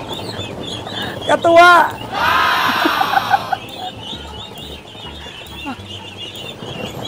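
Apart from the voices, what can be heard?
pet ducks quacking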